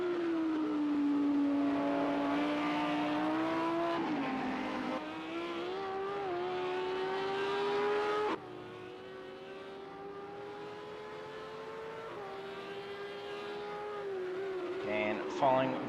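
A GT3 Audi R8 in a racing video game at Circuit of the Americas holds a steady, droning engine note that rises and shifts pitch through gear changes, with fainter cars around it.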